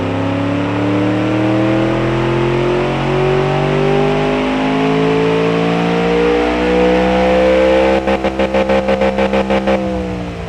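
Car engine in the Automation game, built with a bigger bore, revs steadily with rising, layered harmonic tones that hold loud and continuous, then break into a rapid stuttering pulse near the end; no voices.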